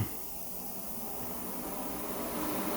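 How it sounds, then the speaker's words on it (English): A steady, close whooshing hiss of a running fan in a paint workspace fills the space, constant and slightly building in loudness, with no voices. "I got the fan on."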